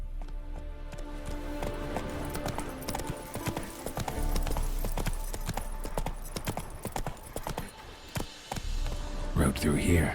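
Hooves of the horse Roach clip-clop at a steady gallop in The Witcher 3, a loud, continuous drumming of hoofbeats close by, mixed with game music and ambient sound, and a voice speaks over it.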